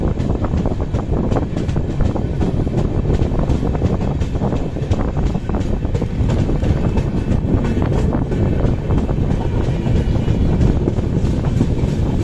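Panvel-Nanded Express train moving off, a loud, continuous rumble with rattling and wind buffeting the microphone, steady and close throughout.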